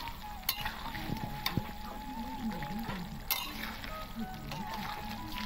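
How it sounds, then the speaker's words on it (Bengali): Boiled chickpeas and potato are stirred in oil for chana paneer, a faint, steady sizzle with a few sharp clinks and scrapes of the spoon against the pan. "এবার একটু ভালো করে নেড়ে দেবো।"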